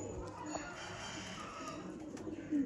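Teddy Sialkoti Golden Kamagar breeder pigeons coo softly and steadily against a continuous background hum, with no voices in between.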